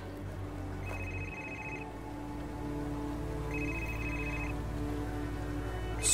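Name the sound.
telephone ringing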